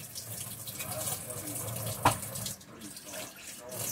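A kitchen tap runs as a tuna can is rinsed out under it, a steady close splash of water with a brief sharper clatter midway.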